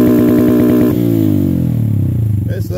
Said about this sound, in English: Okay, so that's two-step working.